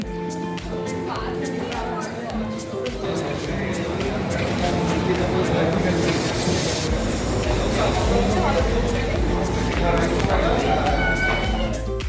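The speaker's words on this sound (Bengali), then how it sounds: "তো তোমরা দেখতেই পাচ্ছ মেট্রো আসছে।" An underground metro train rumbles into Howrah's under-river metro station, growing louder and heavier over several seconds, with station noise and people talking throughout.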